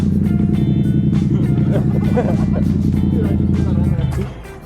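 A car engine rumbles steadily nearby, a low, even drone that runs for about four seconds before dropping away, with people talking over it.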